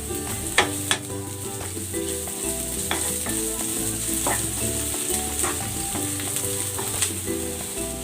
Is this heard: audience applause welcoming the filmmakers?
no